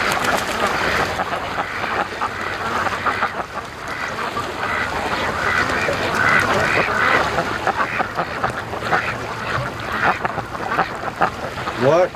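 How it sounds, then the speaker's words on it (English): A large flock of free-range ducks quacks loudly and continuously during their morning rush to a lake, a dense, overlapping chorus of calls close by. "It's a lot of ducks."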